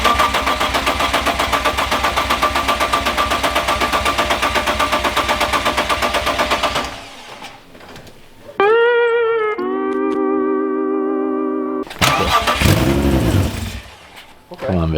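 A car engine revs loudly in a steady, rattling run, then cuts off; a starter whines and cranks in bursts as it tries to restart.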